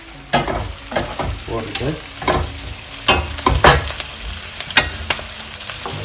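Green chillies sizzle in hot oil for an eggplant kara kulambu, with a steady fry hiss broken by repeated scraping stirs and utensil knocks, close by, and a brief spoken word.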